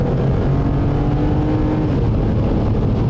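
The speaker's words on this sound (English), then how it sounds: "as soon as we step on the gas pedal, man, this little SUV comes alive" A 2010 Toyota RAV4 with a 3.5-liter V6 pulls hard on the highway, its engine drone steady and loud over road and wind noise for the whole stretch.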